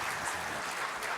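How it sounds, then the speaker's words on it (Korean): A church congregation and choir applaud after singing a Christmas carol medley at a Christmas celebration service, a brief dense wash of clapping with a faint voice underneath. "우리 모든 성도들과 우리 성가대 위에서 우리 박수 한번 해주시기를"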